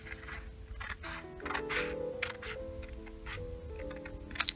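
Scissors cut a fabric pattern piece along the center back, a quick series of close, crisp snips and clicks in a quiet room.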